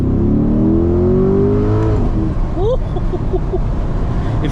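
Chevrolet C8 Corvette with a loud exhaust revving hard in Sport+ mode, a rising engine roar that climbs through the gears with a sharp shift pop midway, close and continuous.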